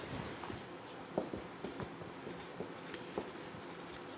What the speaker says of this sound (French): Donc, on va écrire ça.